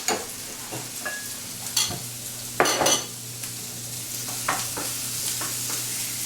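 Vegetables sautéing in a pan for an omelette give a steady close sizzle, with a few sharp scrapes and clinks of a utensil against the pan.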